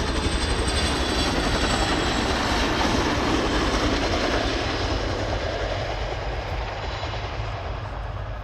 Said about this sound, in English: the aircraft departs with an over-the-shoulder transition